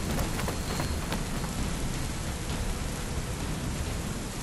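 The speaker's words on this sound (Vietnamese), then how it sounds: "Mưa thật rồi, giờ ngọ cũng sắp điểm." Heavy rain pours steadily in an animated folk tale, a dense, loud, unbroken hiss of falling water that fills the whole scene with no voices.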